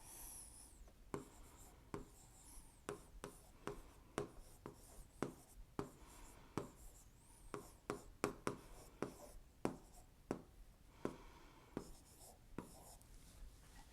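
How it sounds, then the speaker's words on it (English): A pen drawing lines on paper, producing a close, crisp series of short scratching strokes in an uneven rhythm, fairly faint and with no talk over it. "So I'm going to draw a line here."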